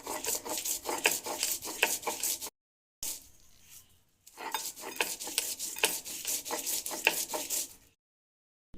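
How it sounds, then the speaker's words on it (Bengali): Grated coconut, a spoonful of poppy seeds and a few nuts ground together into a paste, giving a steady scraping, rubbing grind in rhythmic strokes, close by, with two brief pauses. "নারকেল কুড়ি নিয়েছি তার সাথে বড়ো চামচে এক চামচ পোস্ত কয়েকটি বাদাম একসাথে বেটে নেব"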